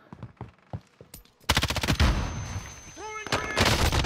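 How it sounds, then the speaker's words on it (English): Call of Duty gunfire in a boat battle: sharp bursts of rapid automatic shots ring out close and loud, with scattered single shots early, then sustained fire with a few pauses. "He's firing at me."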